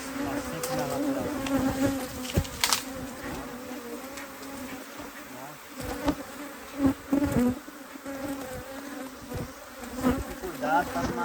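Honey bees from an opened hive in an apiary hum in a steady, dense drone, with brief louder swells as individual insects fly close, the buzzing continuous throughout under occasional handling noise.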